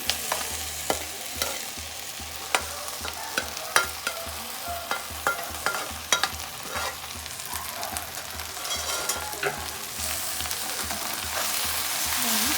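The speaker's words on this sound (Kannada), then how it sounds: "ಈಗ ಹಸಿ ಮೆಣಸಿನ್ಕಾಯಿ ಹಾಕ್ತಿದ್ದೀನಿ ಹುರಿದಿರುವಂಥ ಬೆಂಡೆಕಾಯಿನ ಇದಕ್ಕೆ ಹಾಕ್ತಿದ್ದೀನಿ" Green chillies tipped into fried okra in a pan for a chapati side dish, with a steady broad sizzle and frequent sharp scraping and stirring clicks from a spoon against the pan, close and fairly loud, no talking.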